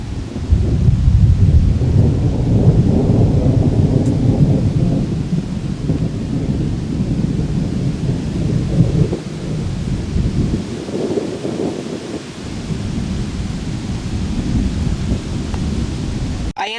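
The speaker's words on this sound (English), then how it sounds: "I intercepted this storm just south of Dayton, just as 2 tornado warnings were issued." A thunderstorm rolls through just south of Dayton, Ohio, during a tornado outbreak, with steady heavy rain and deep, continuous rumbling thunder that swells and eases over several seconds, close and loud throughout.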